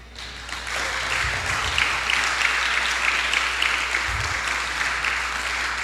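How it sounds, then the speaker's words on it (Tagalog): A church congregation breaks into steady applause, a dense wash of many hands clapping together, sustained at even volume across the hall. "Yan naman ang hinihintay sana ng langit, ang palakpak mo."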